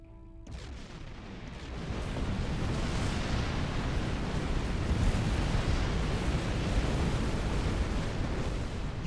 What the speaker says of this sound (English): Detonate the charges.